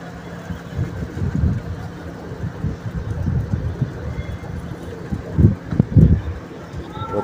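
Low, soft cooing of pigeons comes in repeated throaty bursts, some close and fuller, over a faint background hum.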